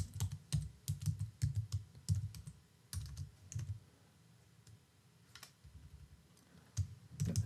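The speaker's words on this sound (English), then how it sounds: "If I can type." Bursts of quick clicks from typing on a computer keyboard, heard up close with short pauses between runs of keystrokes and no talking.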